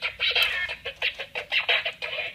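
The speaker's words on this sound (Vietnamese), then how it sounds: "Các bạn có nghe thấy điệu nhạc của con vịt đây không?" A Huile Toys 828 hip hop dancing toy duck plays its built-in sound, a rapid series of bright, chirpy, clucking electronic calls in short bursts, fairly close and alone.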